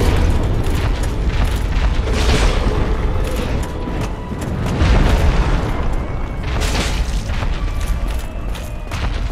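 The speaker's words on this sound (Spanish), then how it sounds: "explota, explota" Heavy booming explosions in Dark Souls Remastered gameplay, a dense, loud rumbling roar with repeated blasts swelling and fading across several seconds, no talk.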